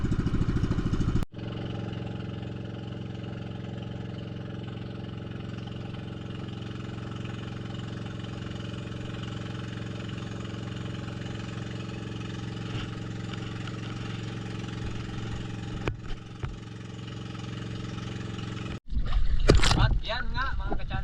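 A small Filipino fishing bangka's engine drones steadily and close for a long stretch, with a brief clatter near the end.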